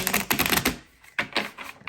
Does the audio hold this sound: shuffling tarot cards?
yes